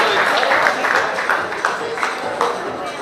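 Loud applause from the audience at a JCI Tribhuvan Nagar officer handover ceremony welcomes guests onto the stage, dense continuous clapping from a crowd, close and full throughout.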